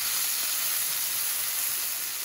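Mushrooms and onion sautéing in butter over medium heat give a steady, close hiss and sizzle that holds evenly throughout, with no talking.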